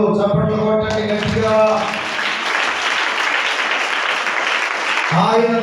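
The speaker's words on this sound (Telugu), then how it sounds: "చప్పట్లు కొట్టండి గట్టిగా" A church congregation at a Sunday service breaks into loud, dense clapping for a few seconds, with a preacher's voice talking just before and again as it fades.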